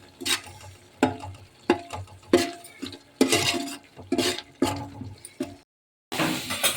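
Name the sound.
frying onions in oil in a pan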